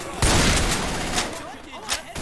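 Gunfire in Left 4 Dead 2 bursts out loudly and close, a heavy volley followed by scattered sharp shots and echoing booms, with voices talking over it.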